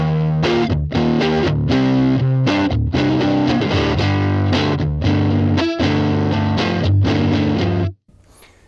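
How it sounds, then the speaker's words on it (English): Eric Johnson thinline Stratocaster on the neck single-coil pickup, tone rolled way down, through a Fender Hot Rod Pro Junior IV 15W 1x10 tube combo, playing loud, full chords and riffs with a slightly driven edge before stopping abruptly. "we can start off with our neck position here on our Eric Johnson thin line Stratocaster"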